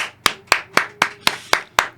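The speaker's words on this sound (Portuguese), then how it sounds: "Salva de palmas!" Hands clap on a podcast set, seven crisp, evenly spaced claps about a quarter second apart, close and dry, with no voices.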